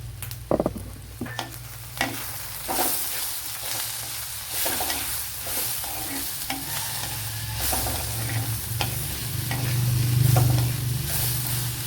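Fish and banana flower sauté in a pan, a close, steady sizzle broken by repeated scraping and knocking of a spatula stirring against the pan, with no voice throughout.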